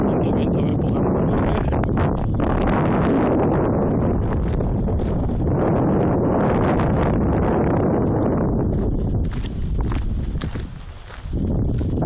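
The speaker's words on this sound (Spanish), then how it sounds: "El viento me empuja mucho." Strong wind buffets the microphone atop a Roman aqueduct, a loud, continuous roaring gust with rustling and scuffing steps, easing briefly near the end before picking up again.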